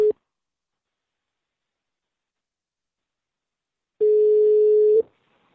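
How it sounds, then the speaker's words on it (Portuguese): A telephone line rings while a prank call is placed: a short tone at the very start, then after a silent gap one steady, loud, mid-pitched ring tone lasting about a second. "Vou ligar, é o seguinte, eu vou ligar agora."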